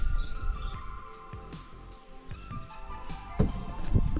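Birds sing outdoors along the Võhandu River during a canoe trip, with faint chirps and tweets over a soft background of water and other outdoor sounds.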